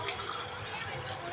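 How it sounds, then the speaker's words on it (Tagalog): Cold water pours steadily into a container, a continuous close, bright splashing rush with no pauses or talk. "Lagyan natin ng malamig na tubig."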